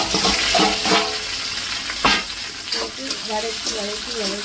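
Onion, green chili and curry leaves sautéing in a home kitchen pan: a steady sizzle with a few sharp stirring knocks, and a voice talking near the end.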